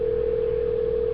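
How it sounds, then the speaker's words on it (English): A telephone line ringing through a radio broadcast connection, heard as a loud, steady, unbroken electronic tone with no talk over it. "But I'm tired of the ringing"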